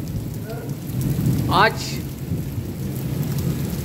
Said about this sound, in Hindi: 28 जुलाई की बारिश जो है बहुत तेज और जोरदार बारिश गिर रही है